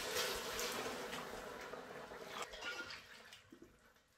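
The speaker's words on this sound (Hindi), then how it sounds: "तो मैं 4 glass पानी इसमें ऐड करूँगी।" Water pours from a glass into a pot of soaked rice for chicken pulao, a close, splashy gush that thins out into smaller trickles and drips.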